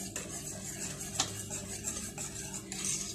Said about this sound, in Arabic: وهقلب بقى البشاميل